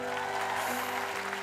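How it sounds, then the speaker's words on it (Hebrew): A live audience claps together in a steady, dense burst of applause with a faint sustained tone underneath. "תמחאו כפיים"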